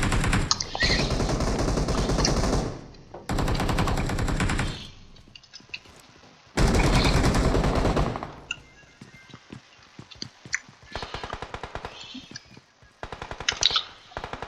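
Gunfire in the video game PUBG Mobile played on an emulator: long bursts of rapid automatic fire alternate with short gaps, then scattered single shots and smaller bursts, loud and close, with no talk.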